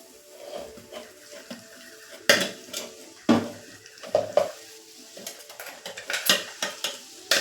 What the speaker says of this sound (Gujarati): હવે આપણે આમાં જે ખજૂરવાળું મિશ્રણ જે મિક્સરમાં પીસ્યું છે તે એડ કરીશું